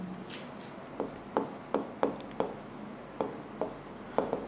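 Chalk or marker strokes tap and scrape on a board during a physics lecture on vectors, a string of short, sharp, evenly spaced knocks with quiet gaps between them, close and clear with no talking over them.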